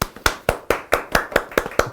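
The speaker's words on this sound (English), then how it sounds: "round of applause for us" A few people clapping in a small steady round of about nine sharp, close hand claps at an even rhythm, with no other sound.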